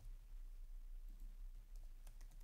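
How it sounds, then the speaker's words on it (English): Soft, quiet clicking of keys on a computer keyboard, sparse at first and then a quick burst of keystrokes near the end. "I'm going to just start typing"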